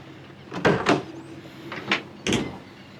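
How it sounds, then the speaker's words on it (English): A 2025 Ford F-150 XL tailgate is dropped open, giving several short, sharp metallic clunks and thumps in quick succession, close by and without any soft damped lowering. "dropping tailgate there"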